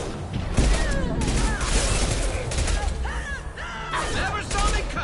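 An impact shot fired in Mass Effect 2, a burst of heavy weapon fire amid crashing combat noise, with a voice speaking over the action.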